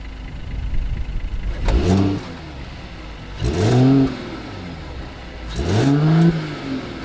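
A 2021 Mercedes-Benz E 450 Cabriolet's 3-liter turbocharged inline-six revs hard three times in separate bursts, each rising and falling, with a low idle rumble between them.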